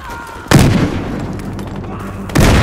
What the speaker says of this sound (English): Frag going out! Okay. Throwing grenade!